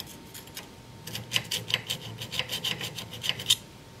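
Diamond card rasping along the bevel of a Forstner bit, a quick series of short, bright scraping strokes in an irregular rhythm, close and moderately loud, with no talk.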